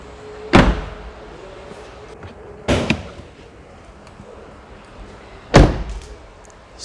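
A heavy door on a 2019 Mercedes GLE Guard armored SUV slams shut three times, each a loud, solid thud with a short rumble, separated by quiet pauses.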